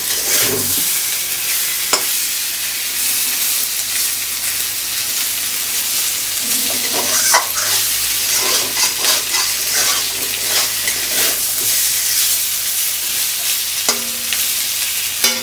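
Potatoes sautéing in oil in a pan for a rohu fish kalia, a steady close sizzle with scraping stirs and soft clinks of a spatula throughout, no voices.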